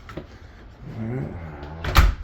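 An attic access door in a house is pulled open, a low creak and scrape followed by a sharp loud knock as it lands, close by, with a voice briefly in the background.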